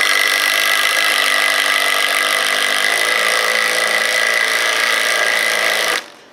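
A power tool drives a Hillman Power Pro exterior wood screw into a treated 4x4. A loud, steady whirring grind runs unbroken for about six seconds, then cuts off abruptly.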